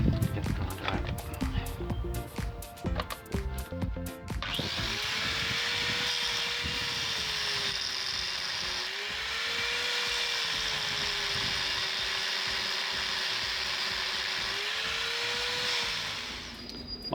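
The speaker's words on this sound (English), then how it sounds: "when everything else fails, get the grinder out" An angle grinder cuts through a stuck bolt on an Alfa Romeo GT, whining steadily and loudly with slight pitch dips under load after some clattering handling noise at the start.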